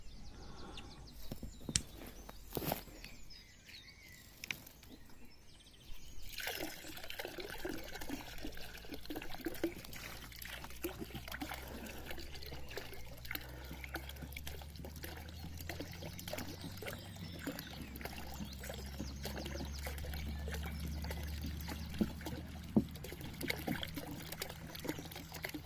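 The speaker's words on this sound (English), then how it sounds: "Just topping up the bird bath, the bird well, with this last 2 litres of water." Water from a two-litre container is poured into a bird bath outdoors, a long steady trickle and splash, fairly faint, following a few handling knocks, no speech.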